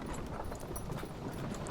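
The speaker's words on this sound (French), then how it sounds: "Ah des bons gros chevaux avec une taille digne de ce nom" Large horses' hooves clip-clop in the video game A Plague Tale: Requiem, a muffled, uneven plodding beneath a low rumbling ambience, steady and moderately close, with no talking.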